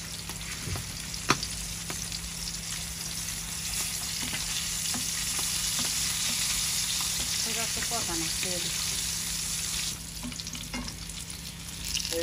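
Pumpkin flower fritters fry in oil, with a constant close sizzle and crackle, occasional spatula scrapes and stirring clinks, and a brief dip in the hiss near the end.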